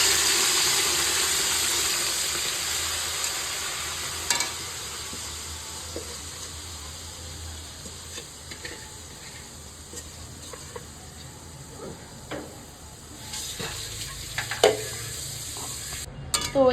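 Chicken biryani gravy sizzles and hisses in ghee while being stirred, a steady frying noise that gradually softens, broken by a few light clinks of the spoon against the pot; no talking.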